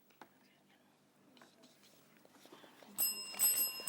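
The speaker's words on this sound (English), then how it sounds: "That bell signifies the end of the match" A bright ringing bell near the end, struck in two short bursts to signal the end of a match at a televised junior quiz competition, following faint murmuring voices.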